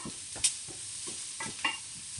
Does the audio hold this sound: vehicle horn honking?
no